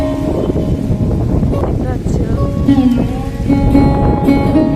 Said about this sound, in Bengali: বৃষ্টিতে একটু ভিজবো বৃষ্টিতে ভিজলে গামাচিগুলো পড়ে যায়